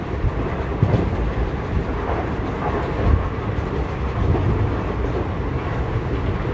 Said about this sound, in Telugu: పూరి ఎక్స్ప్రెస్ వెళ్ళిపోతుంది